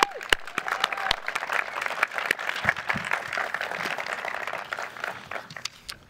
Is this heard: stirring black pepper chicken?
no